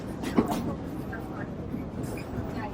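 Frisco Silver Dollar Line steam train ride at Silver Dollar City in the Ozarks, giving a steady rolling rumble and clatter throughout, with faint voices in the background.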